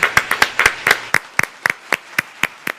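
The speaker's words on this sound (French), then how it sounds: "Applaudissons-les parce qu'ils le méritent tous" Scattered claps from a gala audience applauding volunteers, about a dozen sharp separate hand claps in an uneven rhythm, fairly close and moderately loud with no voices.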